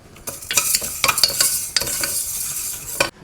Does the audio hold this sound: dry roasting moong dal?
yes